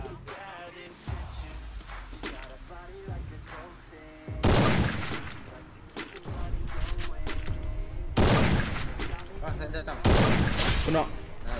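Gunfire in the mobile shooter game Garena Free Fire comes in loud, punchy bursts and rapid volleys, layered under excited talk from a player throughout.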